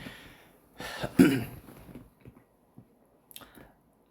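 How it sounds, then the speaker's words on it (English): A single close, rough throat clearing with a short cough-like burst, then quiet breathing and small mouth noises. "let me clear my throat."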